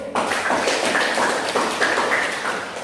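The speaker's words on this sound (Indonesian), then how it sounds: "Kita beri aplaus terlebih dahulu" A room of people at a teachers' class session clapping together, dense and steady applause that holds close and fairly loud throughout.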